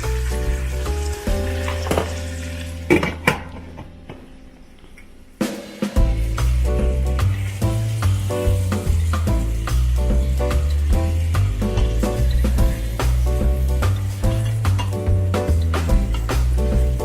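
Chicken pieces fry in a pan for paprika chicken, a steady close sizzle running for most of the stretch after a brief quieter gap near the start, with clattering stirs and utensil knocks over it.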